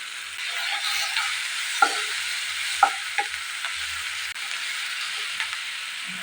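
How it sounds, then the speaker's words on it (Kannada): Vegetables with coriander leaves frying in a pan at home, a soft continuous sizzle under occasional light scrapes and taps of a spoon stirring, fairly quiet and close. "ಇದನ್ನು ಚೆನ್ನಾಗಿ ಫ್ರೈ ಮಾಡ್ಕೊಳ್ತಾ ಇದ್ದೀನಿ."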